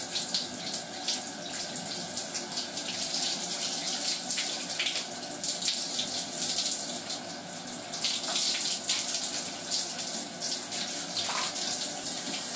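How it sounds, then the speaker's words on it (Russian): Shower water runs and splashes continuously nearby, a steady rushing spray with small irregular splatters, no voices. "вот вода наполняется, брызгает"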